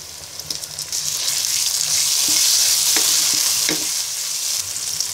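A spice mix frying in a pan with chopped tomato added sizzles loudly and continuously, broken by a few sharp scraping stirs of a utensil, with no voices.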